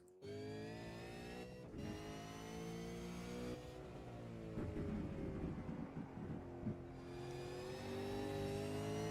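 A race car at a Manawatu Car Club winter series round revs hard on a qualifying lap, the engine climbing and dropping through gear changes in a loud, steady onboard drone with no voices.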